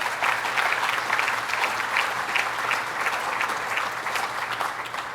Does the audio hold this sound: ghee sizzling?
no